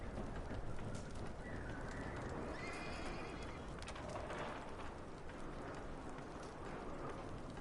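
Horses whinnying and stamping in a video game, with clip-clopping hooves and birds cooing in an outdoor ambience, steady and moderately distant.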